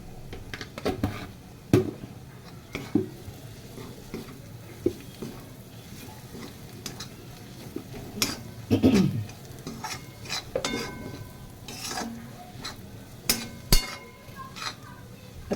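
Peanut powder being stirred into a vegetable dish in a pan, irregular spoon scrapes and clinks against metal with a faint sizzle, close up, with scattered louder knocks.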